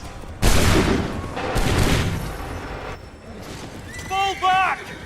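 A musket volley from a line of soldiers in Assassin's Creed III Remastered, a loud broadband burst followed by a second blast, with shouted voices and short musical tones afterward.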